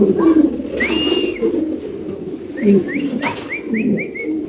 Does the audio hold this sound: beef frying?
no